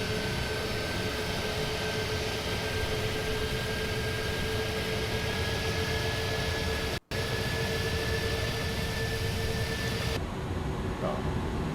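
An airliner landing with full flaps in Microsoft Flight Simulator 2020 gives a steady, loud engine and airflow roar with sustained whining tones, unbroken apart from one brief dropout.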